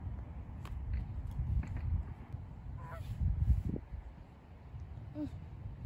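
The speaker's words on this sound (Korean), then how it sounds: "거위." A flock of geese met on a walk, with a few nasal honks over a low rumble of outdoor background noise and shuffling, heard from a moderate distance.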